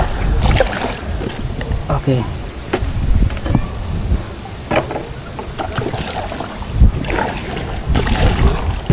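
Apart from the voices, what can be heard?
strong wind at a lagoon while kayaking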